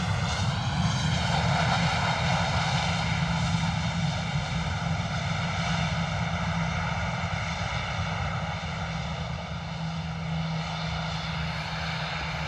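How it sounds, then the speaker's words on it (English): An EasyJet Airbus A320 lands at misty London Luton Airport, its jet engines roaring steadily with only light reverse thrust, a loud continuous rumble with a whining tonal layer that eases slightly toward the end, no voices. "Not much reverse thrust noise there."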